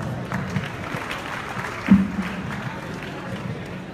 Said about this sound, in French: Si vous avez aimé sa prestation, applaudissez s'il vous plaît.